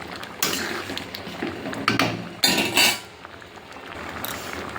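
A metal lid settles onto a pot of dal cooked with pumpkin and papaya, giving a few close, sharp clanks and rattles in the middle, set against kitchen background noise.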